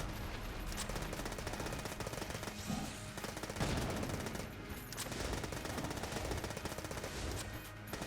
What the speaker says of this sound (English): I'm just going to use the machine pistol the entire time